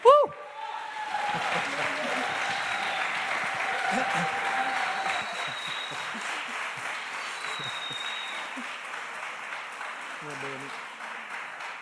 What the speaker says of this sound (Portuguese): Una grande salva de palmas a Padre Cesare!